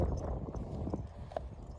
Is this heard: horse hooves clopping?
yes